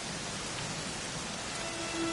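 Steady rain falls in the video game Dragon Quest XI, a soft, even hiss of drops on surfaces with no breaks, quiet and continuous throughout with no talk.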